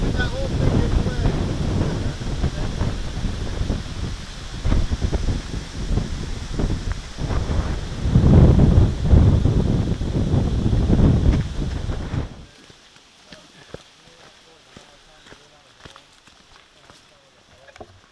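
Strong wind buffets the microphone on a Letchworth State Park backpacking trail, a loud continuous roar with rustling that peaks mid-way, then drops abruptly to quiet with faint scattered sounds.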